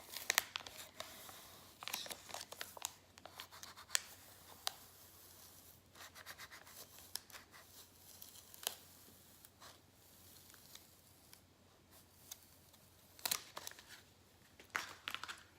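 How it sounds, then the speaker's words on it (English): Contact paper is peeled slowly off a wood log slice ornament, giving faint, intermittent crinkles and small tearing rips over a quiet room background. "The main thing you want to watch for when you take the contact paper off is to make sure the innards of the letters stay."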